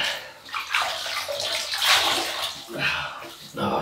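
Water splashing as a face is rinsed before a wet shave: busy, irregular splashing and sloshing runs throughout at close range, with a voice mixed in underneath.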